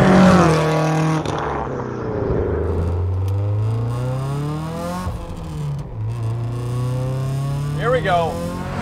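A 600-horsepower Subaru STI accelerates hard on a street, its engine note climbing steadily through the gears with brief dips between shifts, loud and close throughout with faint talk underneath.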